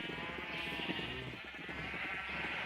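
Minecraft sheep bleat faintly over a steady hum of background music and ambient game sound.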